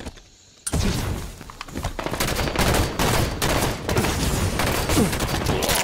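Rapid bursts of battle rifle and magnum gunfire from the Halo SWAT video game, loud and dense. Shots crack in quick succession after a brief quiet start, with no talking.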